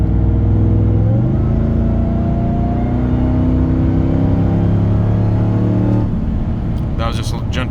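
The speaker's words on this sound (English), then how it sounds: "All right, let's hear how it sounds." A Ram TRX fitted with a K&N full intake rolls gently onto the throttle in traffic, a deep, loud engine drone rising in pitch, then settling as a voice speaks at the end.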